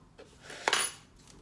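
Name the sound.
measuring teaspoons clinking while measuring salt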